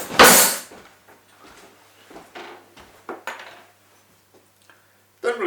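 A teaspoon taken from a cutlery drawer: a loud clattering rattle of metal utensils at the start, then softer clinks and knocks, with a brief clatter again at the end.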